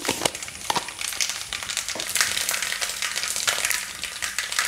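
Mustard seeds sputter in hot oil in a steel pan for a lemon pickle tempering, crackling in irregular sharp pops over a continuous sizzle, close and moderately loud, without speech.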